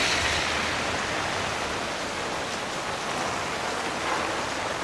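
Steady rain falls throughout on a rainy day, a dense even hiss with no voices and no letup.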